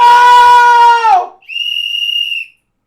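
A loud, sustained whistle: a long steady blast that bends down at the end, then a second, higher and thinner blast held for about a second.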